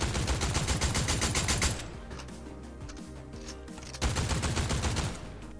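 An assault rifle in Fortnite fires in rapid automatic bursts, pauses for a reload with faint mechanical clicks, then resumes a short burst of fast shots, crisp and upfront.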